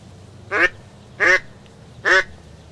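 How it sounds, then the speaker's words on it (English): A duck quacks three times at even intervals during a duck hunt, each call close and clear over a faint low background hum. "A couple more ducks."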